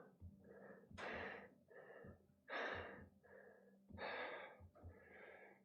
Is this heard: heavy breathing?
yes